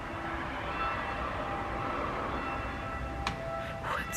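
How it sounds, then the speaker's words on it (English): Distant church bells ringing faintly, their sustained tones hanging over a low outdoor background hum. "Can you guys hear the church bells ringing?"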